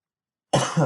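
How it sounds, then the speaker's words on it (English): A single short, sharp cough breaks the silence, close and fairly loud, with a second smaller burst right after. "I got a bit of a cough"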